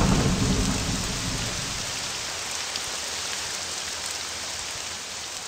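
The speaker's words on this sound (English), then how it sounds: "when there is a thunderstorm with this mod, the rain looks super sinister" A thunderstorm in the modded Morrowind video game brings dense, steady rain with a deep rumble of thunder that is strongest at the start and then fades. Only the storm is heard.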